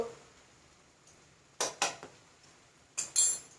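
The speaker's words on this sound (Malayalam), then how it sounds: "നന്നായി അത് ഇളക്കി കൊടുക്കാം" Curry leaf pickle is stirred in a pan, with a few sharp metallic clinks of a spoon against the pan arriving in two short clusters over quiet background.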